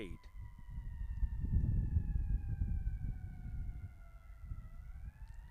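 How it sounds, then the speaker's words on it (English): Faint, distant ambulance sirens wail in long sliding tones over low rumbling traffic noise during a cricket match. "We hear some ambulances in the background."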